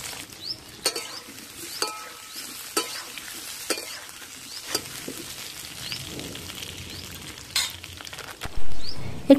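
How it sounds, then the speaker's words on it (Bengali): Peeled small potatoes fry in hot mustard oil, a steady soft sizzle broken by sharp clinks and scrapes of a spatula stirring in the pan, with a louder rush near the end. "এখন খোসা ছাড়িয়ে রাখা আলুগুলো তেলের মধ্যে দিয়ে আলুগুলোকে হালকা"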